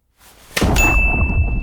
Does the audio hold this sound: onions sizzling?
no